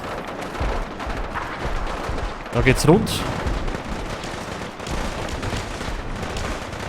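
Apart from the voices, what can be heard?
gunfire in the video game Fallout 4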